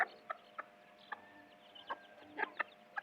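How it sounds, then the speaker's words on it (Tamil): A fighting rooster clucks in several short, sharp bursts spaced irregularly, fairly close and moderate in volume, with no talk over it. "நாங்கள் ஃபஸ்ட்டு வாங்கின சண்டை சேவல்."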